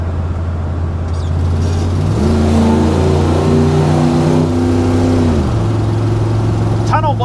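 The Boogie Van's engine revs up hard in a tunnel, a loud droning roar that climbs in pitch, holds, then drops back, with a brief voice near the end.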